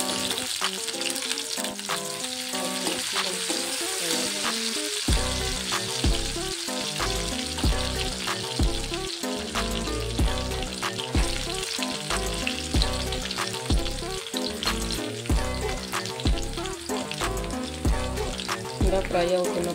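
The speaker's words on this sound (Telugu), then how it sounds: "ఇలా ఫ్రై అవుతున్నప్పుడే చూసారు కదా" Green chillies frying in a pan of hot oil while cooking rice atta pasta, a loud continuous sizzle with rhythmic stirring scrapes and pulses running throughout, close up and without talk.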